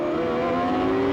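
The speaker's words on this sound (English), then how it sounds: "Now listen to the engine note." A race car engine at turn one of the 1994 Toyota Grand Prix of Monterey holds a loud, steady, sustained drone with a strong tonal note and no voices.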